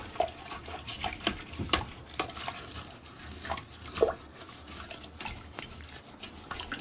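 A toilet brush scrubs under the rim of a toilet bowl with Comet cleanser, giving faint, irregular scratchy strokes and light wet taps close by, with no voices.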